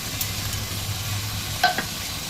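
Thickened milk and carrots for carrot halwa are stirred and sautéed in a pan. A steady, close frying hiss is heard, with a brief scrape of the spoon near the end and no talking.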